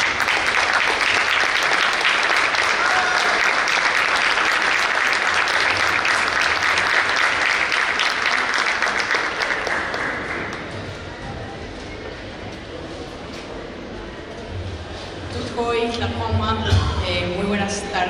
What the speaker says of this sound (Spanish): Recibimos a Bianca Orqueda con un fuerte aplauso.